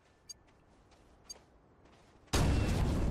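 TNT dynamite blast in the space game Astroneer: after near silence with two small ticks, a sudden loud, noisy roar bursts in and holds steady to the end, very short and abrupt.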